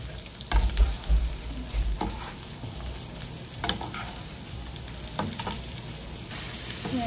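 Sliced fresh ampalaya and eggs frying in a pan, with a steady close sizzle broken by bursts of stirring and scraping.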